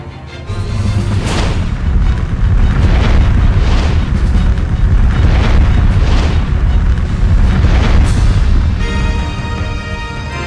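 A fire spell cast on all enemies in the Septerra Core video game roars as a loud, continuous rumbling blaze with repeated swelling bursts about every second, ending in a ringing chime.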